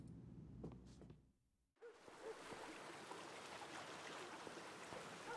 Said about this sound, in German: Es füllt sich langsam mit Wasser.